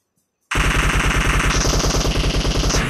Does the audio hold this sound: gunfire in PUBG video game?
yes